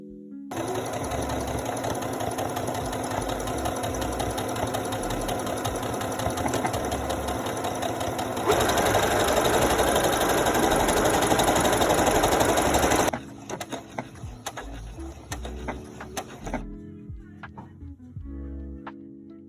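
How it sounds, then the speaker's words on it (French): A sewing machine rapidly stitches buttonholes into fabric for a motorcycle helmet bag, a fast steady mechanical chatter that grows slightly louder midway, then breaks into short intermittent bursts and stops. "on va coudre 2 boutonnières assez loin du bord pour pouvoir le replier sur le fil"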